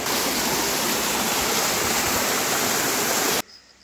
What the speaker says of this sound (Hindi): और ये पूरा पानी नीचे जा रहा है